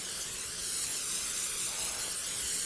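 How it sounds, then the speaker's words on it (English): Nonstick oil cooking spray hisses steadily into a 9 by 12 inch baking pan for brownies, a close, continuous airy spray lasting a few seconds with no talking. "I like to use a nonstick spray that's just oil."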